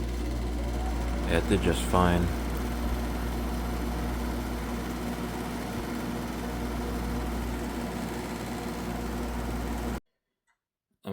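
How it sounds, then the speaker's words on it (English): A window air conditioner compressor runs with a steady, loud droning hum while a second air conditioner runs nearby; a short burst of speech sits near the start and the hum cuts off abruptly near the end. "Let's see how this one starts with the other air conditioner running."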